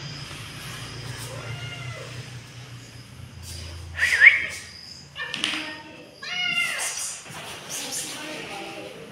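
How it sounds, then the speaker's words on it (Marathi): A cat meows a few times in a village home, short mid-pitched calls heard close, mixed with people talking and children's voices around it. "भारी आहे ना मांजर."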